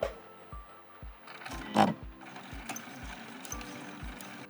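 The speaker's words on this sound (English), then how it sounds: "I'm first going to sew the orange heart onto the fabric with about 1/8 of an inch seam allowance" A sewing machine stitches an orange fabric heart onto fabric, giving a quiet rhythmic mechanical thumping at a steady pace, with a brief louder rustle partway through.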